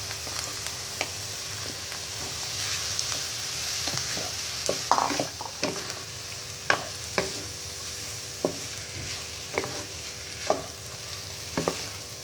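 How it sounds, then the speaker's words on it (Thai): A spatula stirs rice with egg in a hot pan while frying shrimp fried rice, making a soft continuous sizzle broken by irregular scraping clicks and taps, close by and with no voices. "คนให้เข้ากันนะคะ"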